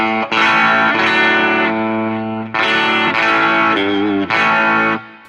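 A Schecter PT Special electric guitar with a twangy Telecaster-style tone plays sustained chords and notes, loud and close, in three ringing phrases separated by brief breaks.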